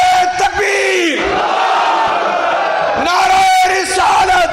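Large crowd at a PTI local government convention in Lahore roaring a chanted slogan in unison, loud and close, with repeated surging yells and a leader's voice calling between responses.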